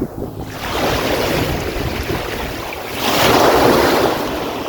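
Ocean surf breaks on the beach at Wineglass Bay on Tasmania's east coast, a broad continuous wash swelling louder near the end, with wind buffeting the microphone and no voices.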